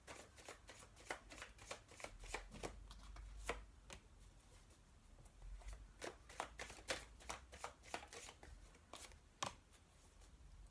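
Chuck Spezzano love cards shuffled by hand, a steady run of quick crisp riffles and taps, close and quiet, with no voice.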